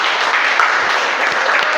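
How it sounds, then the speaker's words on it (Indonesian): A classroom of students applauds a group's physics presentation, a dense, steady wash of many hands clapping at once with no voices over it. "Kita beri aplaus untuk kelompok"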